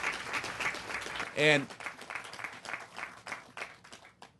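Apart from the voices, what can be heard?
audience clapping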